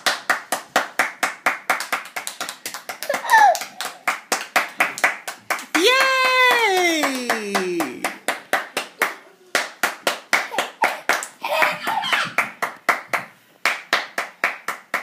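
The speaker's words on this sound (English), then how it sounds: "Everybody clap your hands." A group claps hands in a steady rhythmic beat, close and fairly loud, while a voice sings a long rising and falling phrase partway through.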